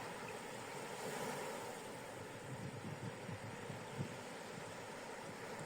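Ocean waves wash in softly and continuously, faint and distant, with a gentle swell and light wind noise on the microphone.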